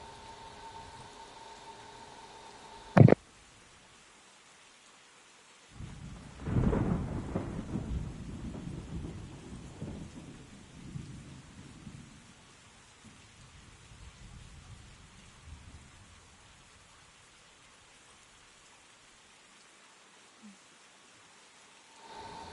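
Thunderstorm with rain in the video game Kingdom Come Deliverance: a sharp crack of thunder, then a long rolling rumble that fades slowly over steady, hissing rainfall.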